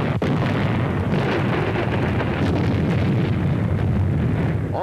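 Archival film of the Iwo Jima beach assault, with Marines coming ashore under fire from the hills: a dense, continuous roar of explosions and rumbling blasts, loud and unbroken, with a sharp crack near the start.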